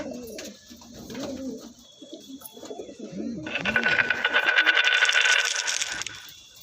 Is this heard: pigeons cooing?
yes